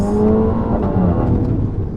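A Mini Cooper JCW hot hatch with a 300 hp engine pulls hard under acceleration, a loud, steady engine drone with rising harmonics filling the whole two seconds, close up and with no talking.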